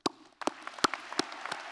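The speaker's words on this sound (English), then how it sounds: "please join me in a huge round of applause for our amazing graduates" Audience applause at a high school graduation ceremony, a dense burst of clapping that starts after a brief lull and continues steadily with sharper individual claps standing out.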